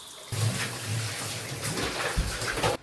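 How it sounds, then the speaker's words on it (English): Water splashes and runs in a bathroom during cleaning, a steady close rush of water lasting a couple of seconds before stopping abruptly. "Give the bathroom a bit of a splash."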